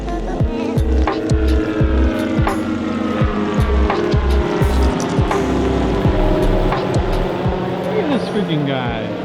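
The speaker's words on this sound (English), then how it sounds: "Turns out he's crop dusting, but that was one of the lowest passes I've seen him do right over here." A crop-dusting airplane makes a very low pass overhead near a steel bridge, its engine drone rising and falling with pulsing, throbbing tones and shifting pitch, loud and close, with wind noise throughout.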